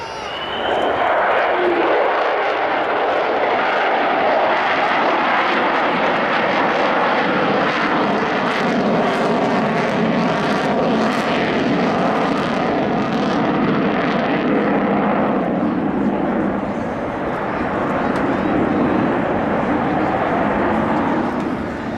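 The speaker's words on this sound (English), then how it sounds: "You can see the power coming on those engines" The four jet engines of the Avro Vulcan XH558 bomber roar at an air show at Yeovilton in 2014, a loud, sustained, rumbling thunder that swells as power comes on, fading slightly near the end.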